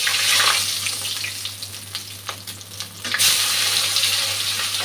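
A bay leaf crackles and sizzles in hot oil for a Bengali katla fish curry with bottle gourd. The frying hiss is loud at first, dips briefly, then surges again over a low steady hum.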